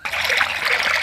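Coconut oil poured into a cooking pan for a village-style Hyderabadi green chicken, a brief, close, steady trickling stream.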